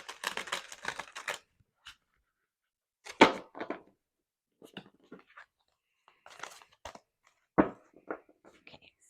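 Tarot cards being shuffled together by hand, in short bursts of crisp riffling and slapping with quiet gaps between, close and moderately loud.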